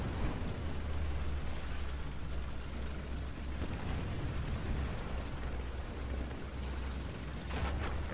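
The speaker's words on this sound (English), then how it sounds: "Well, that was the enemy bomber strike." Enemy bomber strike explosions rumble through a War Thunder tank battle, a dense continuous roar of blasts and low booms with a sharper burst near the end, loud and close with no talking.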